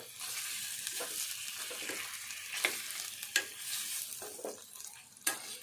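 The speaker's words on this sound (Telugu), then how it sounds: "ఇదంతా మంచిగా ఈ కారం అంతా చికెన్కి పట్టేటట్టు వేపుకోవాలి" Chicken frying with chili powder in a pan gives a steady sizzle, broken by several scraping stirs and sharp utensil knocks, without any voices.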